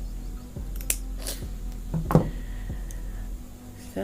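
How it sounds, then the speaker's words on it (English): Scissors snip through crochet yarn in a few quiet, separate clicks and crisp cuts spaced over a few seconds, close and faint against a quiet room. "just cut the yarn"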